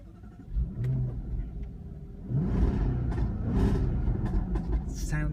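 A 2015 Jaguar XFR-S V8 engine turns over and fires up, then revs with a deep, throaty rumble nearby, loud and sustained.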